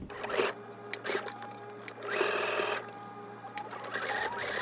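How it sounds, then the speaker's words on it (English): A sewing machine sews in a zipper in short bursts of rapid stitching, stopping and starting, close by with a steady background hum. "And I'm going to go ahead and sew in my zipper."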